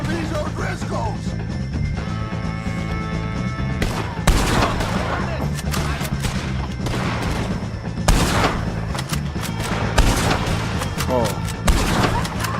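Repeated gunshots in the Red Dead Redemption 2 video game during a shootout with O'Driscoll gang members, several loud cracks at irregular intervals over game music and ambience, with a player talking.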